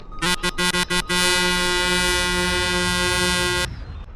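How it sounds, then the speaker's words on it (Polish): A truck horn in a truck driving video game gives four quick, loud blasts, then one long steady blare lasting over two seconds before stopping abruptly. "No co, kto tam trąbi?"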